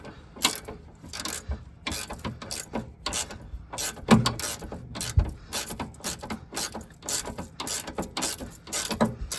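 Hand ratchet tightening a bolt on new car coilovers, rapid close clicking in short irregular bursts with metallic clinks and handling noise.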